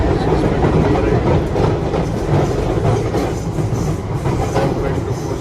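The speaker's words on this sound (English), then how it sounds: "This is metro number 8." A Paris Metro line 8 train runs with loud, continuous rumble and rhythmic clickety-clack of wheels on rails, heard from inside the carriage, with a brief voice faintly in the background.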